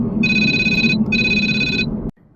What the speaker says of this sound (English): I literally got a phone call while I was in the middle of recording